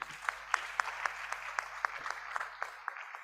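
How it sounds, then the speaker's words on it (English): Audience at a technical and business meeting in Lagos claps for a presenter: a sparse round of distinct, fairly loud individual claps from a small room, tapering off after about three seconds. "I will give you another round of applause."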